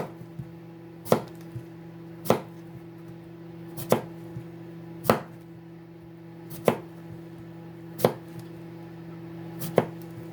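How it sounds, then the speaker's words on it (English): A knife slices through zucchini on a cutting board, each cut a sharp, close thunk, about seven of them spaced a second or so apart over a steady low hum. "I'm going to give it a turn each time I slice, and maybe that'll help keep this from slicing uneven or so uneven"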